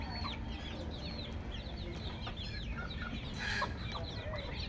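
Desi roosters and hens cluck and chatter in a two-storey chicken house, with frequent short calls from several birds over a steady low hum.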